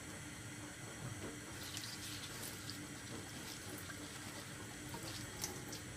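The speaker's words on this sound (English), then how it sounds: "this spinach really does need to be eaten ASAP. So I'm gonna just give it a quick rinse" Spinach being rinsed under a running kitchen tap, a steady close splashing rush of water into the sink for the whole stretch, with no talking.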